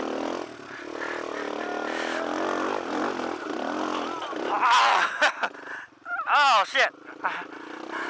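A Kawasaki KLR motorcycle labours and revs up a rocky section of the Porcupine Rim Trail in Moab on a group ride. The engine drone is nearby and steady, then gives way to loud excited shouting.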